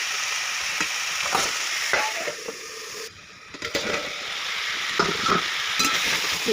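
Ridge gourd, eggplant, drumstick and potato are stirred in a sizzling pan. A continuous frying hiss is broken by repeated spatula scrapes and knocks, with one short lull before the stirring resumes.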